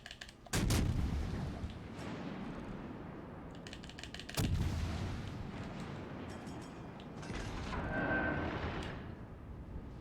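Heavy naval gun salvos in the World of Warships Legends game, fired from a Soviet battleship: two loud booms, each trailing off into a long rumble, with softer crackling battle sounds in between and no speech.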